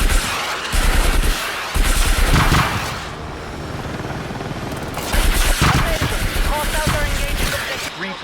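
Heavy gunfire in the video game Battlefield 6, with repeated loud bursts of automatic fire and explosions amid a helicopter-combat soundscape, broken by short lulls and resuming in dense volleys.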